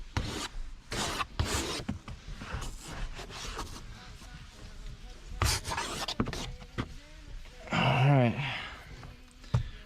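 A hand scrubs the windshield of a 2019 Toyota Tacoma during window tint work, with close, repeated rubbing strokes in uneven bursts and a squeaky smear near the end.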